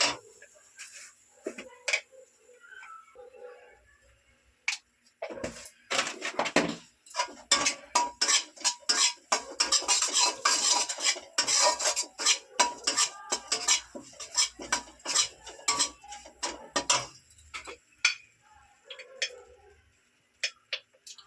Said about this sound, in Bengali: একটু নাড়তে নাড়তে বেসনটা একটু রং ছেড়ে দেবে